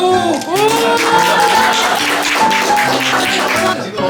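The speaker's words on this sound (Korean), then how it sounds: "박수." Clapping and cheering from a large family gathered at a 60th birthday party, a dense steady burst of applause lasting several seconds with voices mixed in, fairly loud and close.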